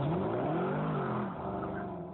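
Supercar engine, a Lamborghini kept alongside a Ferrari Enzo, runs with a steady, close, loud drone whose pitch rises and falls slightly as it revs, with no voices over it.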